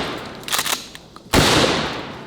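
Gunshots fired from the hip at melons, a few smaller cracks and then one loud, sharp report with a long, echoing decay, close by and outdoors, with no talk.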